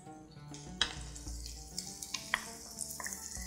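Eggplant sizzling as it grills with oil and salt beside peppers, a steady crackle with sharp pops and stirring clatters, close and fairly quiet.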